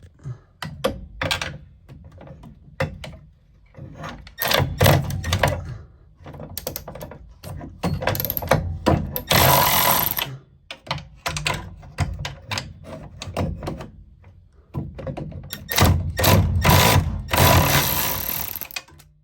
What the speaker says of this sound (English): So we're gonna go ahead and pull these 4 bolts out.